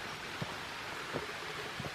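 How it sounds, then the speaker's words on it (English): Light rain beginning to fall outdoors on a brick-paved trail at an abandoned water park, a faint steady patter with a few soft scattered drops, no talking. "And it's starting to rain now too."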